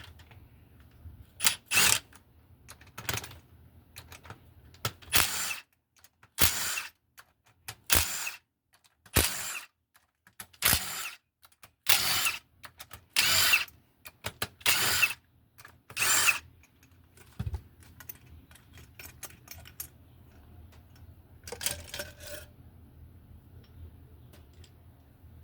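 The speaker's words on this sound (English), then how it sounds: "Alright, so what we'll first do is take off the valve cover." Valve cover bolts come off a 2006 Honda 250EX ATV engine in a series of short, sharp power-tool bursts close by, separated by quiet pauses and a few light clicks.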